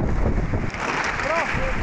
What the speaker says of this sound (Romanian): A fost chiar un vânt foarte puternic